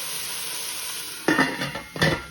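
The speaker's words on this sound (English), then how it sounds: "Give everything a stir." Mushrooms, scallion and garlic sizzling in a pan as they are stirred, a quiet steady hiss broken by two louder scraping stirs near the end.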